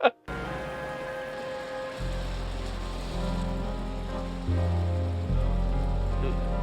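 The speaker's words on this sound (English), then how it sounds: "They got that rain machine on heavy." Heavy rain from a TV set's rain machine pours down steadily in a loud, continuous hiss that grows heavier partway through, with dialogue under it.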